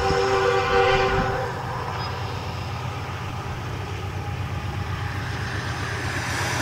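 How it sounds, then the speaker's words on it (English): A long train rolls past with a steady low rumble of rail cars, its horn sounding in long tonal blasts at the start before the continuous clatter carries on alone. "And it's a train."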